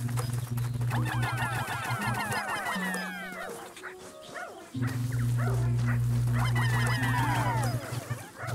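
Barks and yips from the dog companion in Pikmin 4 play in repeated bursts over a steady humming game soundtrack.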